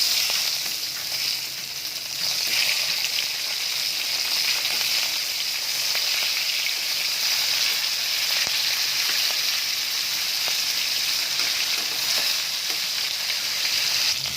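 Fish frying in hot oil until crispy, a steady bright sizzle with faint crackles, close and continuous with no talk.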